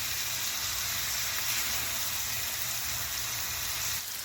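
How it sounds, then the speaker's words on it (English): Korean BBQ meat grilling makes a loud, even sizzle with hiss and crackle throughout, and a low hum underneath. "we are just about done grilling here"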